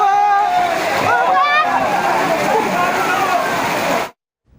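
Fast-flowing floodwater rushing down a flooded street, a loud continuous churning roar under a voice speaking over it, cutting off abruptly near the end.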